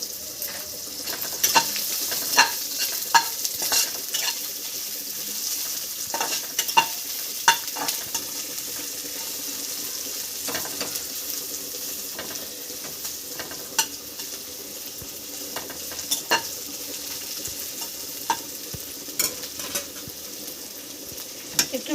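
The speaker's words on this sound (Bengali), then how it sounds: "এখন দিয়ে দিচ্ছি পেঁয়াজ হালকা নাড়বো" Onions frying in oil in a pan for a Bengali chicken stew, stirred with a spatula, giving a constant hiss broken by frequent sharp scraping clicks and taps, close and fairly loud, no speech.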